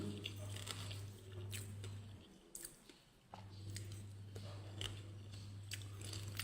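Someone chews and bites into fried sun-dried fish bought at a market, eaten with sticky rice and chili dip, with soft close crunching and squishing bites scattered over a steady low hum.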